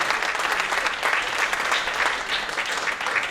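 Audience applause for young artists after a performance, steady dense clapping filling the room throughout, fairly close and sustained without talk.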